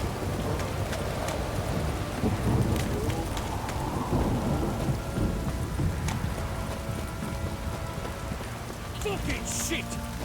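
A heavy downpour in The Witcher 3 pours down steadily and loudly as a dense hiss of rain, with deep thunder-like rumbling underneath and no break across the whole stretch.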